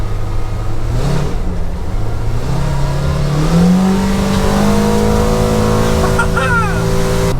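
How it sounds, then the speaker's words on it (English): Engine of a farm vehicle driving along rural roads near the fields, a steady close drone with rising and shifting pitch as it accelerates, running loud and continuous throughout. "I'm having so much fun driving"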